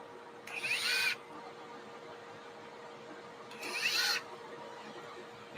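Two separate bursts of a DeWalt drill with a 90-degree attachment, each lasting under a second, while de-moulding freshly baked tanks in a workshop. A steady background hum runs between them.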